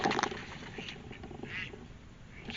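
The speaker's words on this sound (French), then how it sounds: "C'est des canards, j'ai eu peur." Ducks quacking at a farm, near a stable and a goat pen: a few scattered, moderately faint calls over a steady outdoor background, with no talk.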